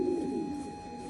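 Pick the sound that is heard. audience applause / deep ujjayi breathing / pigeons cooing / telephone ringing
pigeons cooing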